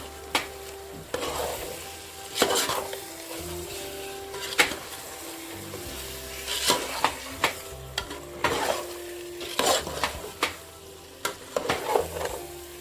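Chicken curry masala with green chillies and garam masala being stirred and roasted in an open pan: a soft, steady sizzle with repeated scraping strokes of a spoon against the pan, close and fairly quiet, with no talk.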